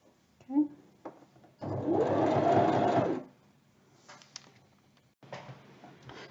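A sewing machine stitches a fabric circle for a plant pot cover, running in one steady mechanical burst of about a second and a half, with quieter handling noises and a voice speaking around it.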